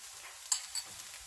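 Spices and red chilli powder frying in a pan for bhindi masala okra curry, with a faint steady sizzle, light stirring scrapes and a couple of soft clinks.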